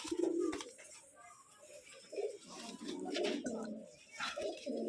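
Giribaz pigeons coo repeatedly in a pigeon loft, soft throaty coos rising and falling close by in a quiet setting, with faint bird chirps between them.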